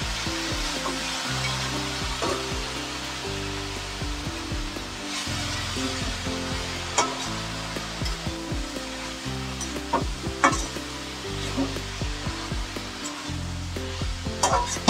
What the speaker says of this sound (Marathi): थोडंसं पाणी टाकायचं याच्यात आणि झाकणी मारून ठेवायची.